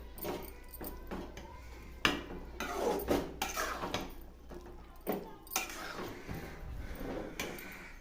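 A spoon stirs eggplant and dried sundakkai vathal kulambu in a cooking pot, giving irregular clinks, scrapes and knocks against the metal at a low, close level.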